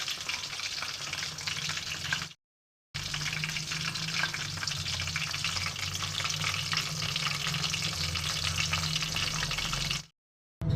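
Chili chicken pakoras deep-frying in a pan of oil over a lowered flame, giving a steady, dense sizzle and crackle that runs continuously, broken by two brief silent gaps.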